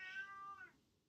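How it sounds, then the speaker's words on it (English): A cat gives a single drawn-out meow, fairly quiet and close, that falls in pitch and fades into near silence. "And that's Bean Cat"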